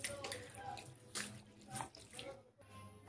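Mixed lentils for dosa batter being washed in water, with splashing and swishing sounds that come in bursts and are fairly close, plus a faint background hum.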